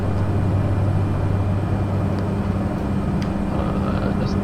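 A video-game airplane drones steadily through flight after takeoff, with a loud, unbroken engine hum and a low tonal whine that hold even throughout.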